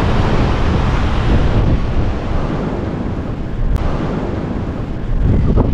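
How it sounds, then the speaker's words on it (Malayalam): Wind and surf roar at Thumboly beach in Kerala, a wide, empty seashore, heard as loud continuous rushing with heavy wind buffeting the microphone and swelling waves beneath. "വളരെ വിസ്താരമായ, വലിപ്പമുള്ള, മനോഹരമായ ഒരു ബീച്ചാണ് തുമ്പോളി ബീച്ച്."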